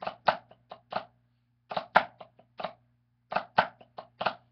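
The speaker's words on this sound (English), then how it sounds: "So flam on beat one, flam on beat two, and then your 16th notes, alternating your sticks." A drummer plays the flamacue rudiment on a drum with alternating sticks, grace-note flams followed by sixteenth notes. The crisp, close, dry strokes repeat as the same phrase three times in a row.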